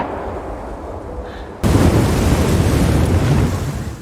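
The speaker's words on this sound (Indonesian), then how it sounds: "Nikolai menembakkan pelurunya tepat pada waktunya" A gunshot in a WWII forest drama about a lone fugitive hunted by Nazis, heard as a sudden loud burst that cuts in midway and leaves a sustained roaring, rumbling tail with no talk.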